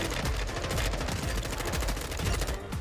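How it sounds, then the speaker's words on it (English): An M4 shotgun fires in rapid repeated blasts in a video game, loud and dense with quick evenly spaced shots running throughout and no talking. "It's an M4 shotgun"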